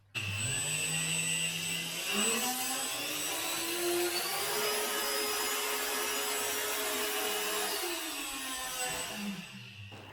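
A 3D-printed 70 mm electric ducted fan on a weighted test rig, powered by a 3S battery, spins up to a loud, steady high-pitched whine with a rising tonal hum, holds there for several seconds, then winds down near the end.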